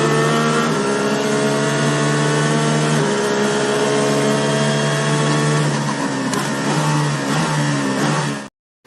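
A race car engine revving at the start of a race, loud and sustained with a rough, buzzing drone that climbs and shifts pitch, then cuts off abruptly.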